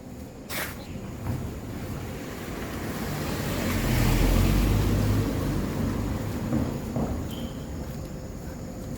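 A boat crosses the Lijiang River, heard as a steady low engine rumble and water wash under broad outdoor noise, swelling toward the middle, with faint distant sounds and no clear speech.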